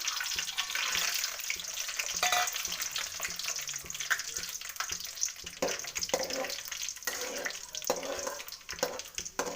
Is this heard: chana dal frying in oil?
yes